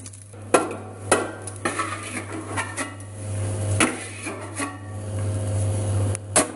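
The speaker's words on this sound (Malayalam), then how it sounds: "ഇപ്പോൾ ഇത് മൂത്ത് നമ്മളിതിൽ നിന്ന് കോരിയെടുക്കുന്ന ഒരു പാത്രത്തിലേക്ക് മാറ്റുകയാണ്." A spoon scrapes and scoops cooked kozhukatta from a pot into another vessel, giving close, intermittent metallic scrapes and knocks over a steady low hum.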